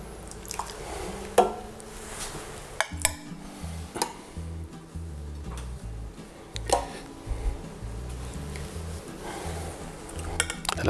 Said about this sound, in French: Je vais donc égoutter ma raie.